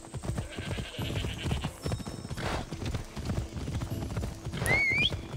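Horse hooves clip-clopping at a gallop in the video game Assassin's Creed Odyssey, with a steady loud rhythm and a whinny near the end.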